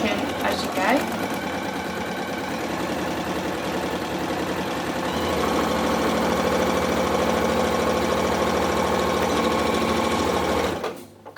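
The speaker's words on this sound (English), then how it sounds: "I'm just going to do a 1 centimetre seam allowance down the pumpkin, back tacking as you go." A sewing machine runs continuously for about eleven seconds, its fast, even needle chatter stitching a seam down a fabric pumpkin, then stops abruptly.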